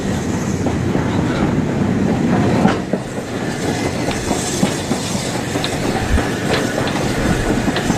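The Oliver Cromwell steam locomotive runs steadily along the track, its wheels clattering in a continuous loud rumble heard from on board the train.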